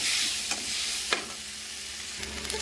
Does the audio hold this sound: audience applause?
no